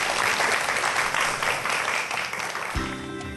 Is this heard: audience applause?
yes